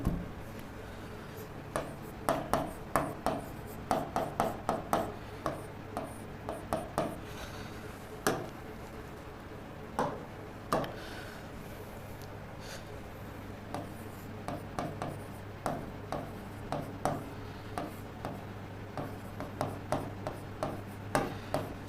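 Chalk or a marker taps and scrapes across a classroom board in short irregular strokes, dry and close, over a low steady hum with no talking.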